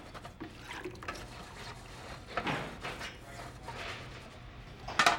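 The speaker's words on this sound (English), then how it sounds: "wash everything in the first sink and change the detergent solution when the suds are" Dishes washed in a sink of detergent water, soft sloshing and splashing with light clinks, a brighter splash near the end, fairly quiet and close.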